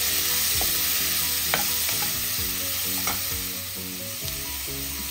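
Tomatoes fry and get stirred in a pan for a village-style raw tender jackfruit curry, a steady close sizzle with soft repeated scraping strokes of a spoon, no voices.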